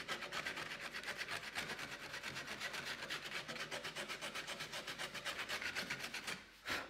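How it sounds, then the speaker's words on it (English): Rapid, rhythmic back-and-forth sanding strokes rub along a carved wooden lovespoon stem, close and fairly quiet, continuing evenly before a brief pause near the end, with no talking. "just going to sand this around"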